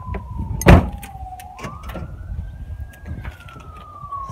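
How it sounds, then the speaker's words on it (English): Siren wails outside an apartment, a single steady tone that dips and then climbs slowly, moderately distant, over low background rumble, with a sharp close thud near the start. "There's a siren going on."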